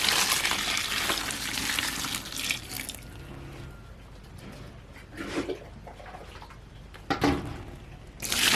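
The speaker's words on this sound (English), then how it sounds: "I'm going to put in a little bit more water in." Tap water running and splashing into a basin for hand-washing laundry off grid, a steady loud pour for about three seconds, then quieter trickles and short splashes as the water settles.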